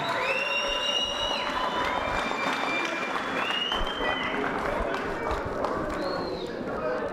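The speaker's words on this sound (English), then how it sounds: "let's give these guys a big round of applause" Crowd applause at a boxing promotion event, steady clapping and cheering filling the whole stretch, with whistles and shouts rising over a loud, dense roar.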